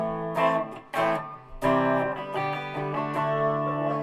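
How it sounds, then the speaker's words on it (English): Electric guitar with a humbucker bridge pickup, through a reverb pedal into an Orange TH30 amp, plays a few struck notes and chords, each ringing out into a soft reverb tail. "Put a reverb on, put into the orange TH30."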